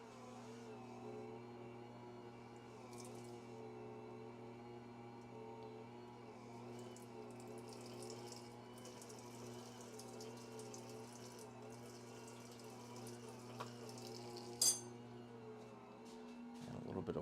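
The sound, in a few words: water running from a tap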